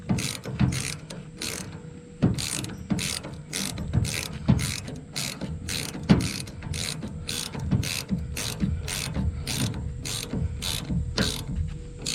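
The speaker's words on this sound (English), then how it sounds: "we'll tighten these up, and a 1/2 inch bolt takes a 3/4 inch wrench." A 3/4 inch ratchet wrench tightens 1/2 inch shear pin bolts during a King Kutter bush hog repair. Quick ratcheting clicks come close up in a steady run of repeated strokes, with small knocks of metal between them.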